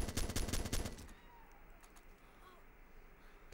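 Rapid automatic gunfire in the video game Arma 2 Operation Arrowhead rattles in a dense burst for about a second, then fades to scattered faint distant shots over a quiet background.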